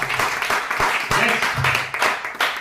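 Audience applause at a direct-selling company talk: a crowd claps in a dense, uneven patter for a few seconds, loud and near, with a hint of voices mixed in.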